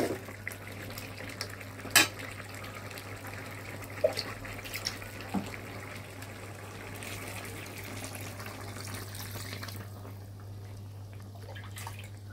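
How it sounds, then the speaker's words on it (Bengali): Broth is poured into a pan of chicken korma (morog korma) as it cooks, a steady liquid pouring and filling sound lasting most of the stretch over a low hum, with a few soft clinks. "এখন আমি ঝোল দিয়ে দিব"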